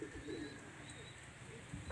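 Pigeons coo softly in a loft, a short, quiet burst of low throaty calls over a faint background hum.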